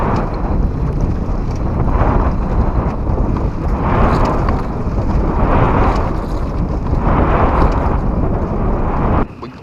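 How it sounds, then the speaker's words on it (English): Strong wind at about 15 mph buffets the microphone on Lake Moultrie, the lower lake of Santee Cooper, in rough water near the shore, a loud continuous roar with gusty swells that cuts off abruptly at the end. "We probably got a 15-mile-an-hour wind"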